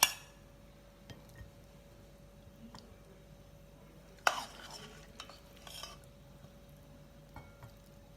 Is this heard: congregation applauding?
no